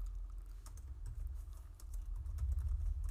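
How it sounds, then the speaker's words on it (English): Typing code on a computer keyboard: a quick, irregular run of light key clicks, close and fairly quiet, continuing steadily with no voices. "And then we're typing origin true."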